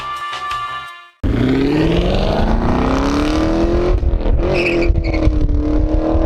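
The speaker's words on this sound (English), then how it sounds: "I want to give you a cold start of a stock MPP dual mode exhaust" A Chevrolet Camaro SS engine cold starts, cranking and firing up loudly through a stock MPP dual-mode exhaust, settling into a steady, rumbling idle with a deep throaty exhaust tone, close by.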